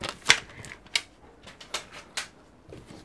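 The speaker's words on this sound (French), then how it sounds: "Je marque les plis en espérant que ça vous permettra de bien voir." Paper being creased into folds for a simple card pouch, heard as sharp, close crackling snaps and rustles. Several distinct crisp crunches come at uneven intervals over a few seconds, with no voice.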